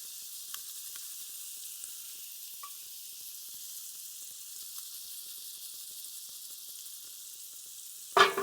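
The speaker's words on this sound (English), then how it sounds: "We're going to swirl the butter and the garlic in the drippings" Butter pats and garlic cloves sizzle in hot burger pan drippings, a steady, close, high hiss that runs throughout with a few faint pops and a sudden clunk at the very end.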